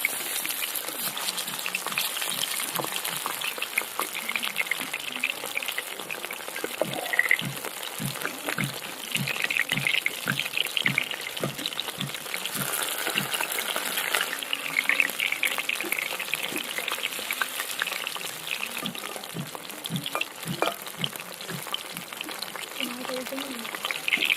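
Pieces of catla fish sizzle steadily in hot oil in a pan for a crispy fish curry, a constant loud crackle with soft pops and the occasional scrape as pieces are turned.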